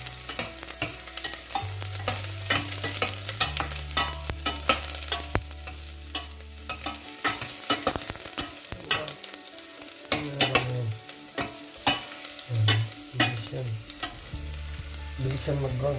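Garlic and onion frying in a pan on an induction stove, a dense continuous sizzle and crackle close up, with scraping stirs and clinks of a utensil against the pan throughout.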